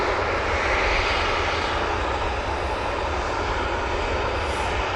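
A Ryanair jet airliner at Manchester Airport gives a loud, steady engine roar that stays broad and constant throughout, with no voices.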